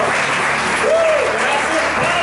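A church congregation breaks into loud, sustained clapping during a Spanish-language sermon on the Holy Spirit, dense applause with faint voices mixed in.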